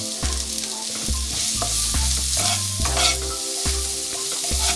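A spoon stirs spices, salt, chili powder and turmeric through eggplant frying in oil in a pan for Bengali fish oil fry, giving a steady loud sizzle broken by repeated scraping strokes at a regular pace.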